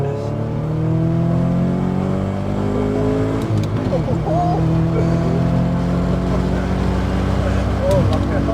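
Four-wheel-drive VW Golf GTI with a swapped Subaru engine revving up and down nearby, a loud throaty rising and falling engine note, with people talking over it.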